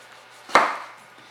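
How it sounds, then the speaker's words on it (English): A knife slicing through a ripe persimmon, one crisp close cut with a short bright attack that fades quickly, alone in a quiet room. "I can feel it when I cut it with the knife"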